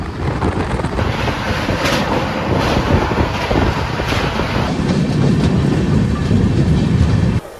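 A passenger train 250 km out of Howrah, bound for Keonjhar, rumbles over the rails with a loud, continuous roar, rhythmic clatter and rushing wind noise close to the microphone.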